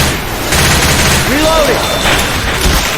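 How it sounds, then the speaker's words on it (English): Machine gun fire in Left 4 Dead 2 on the Hard Rain Milltown map rattles loud and close in a dense continuous burst, mixed with game sound effects and no speech over it. "Yeah, whatever, it's a machine gun."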